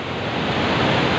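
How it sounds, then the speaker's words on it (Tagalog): Rushing water at Kapati Falls, a dense, steady roar of falling water filling the whole short stretch, close and loud. "We are here, KAPATI Falls"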